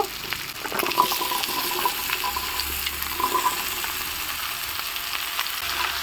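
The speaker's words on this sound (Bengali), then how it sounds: "আমি শুটকি পেঁয়াজ রসুন একসাথে একটু হালকা করে ভেজে কষা কষা করে নিচ্ছি" Dried fish, onion and garlic fry together in a pan with a steady, close sizzle and hiss running the whole time, broken by a few faint clinks of stirring.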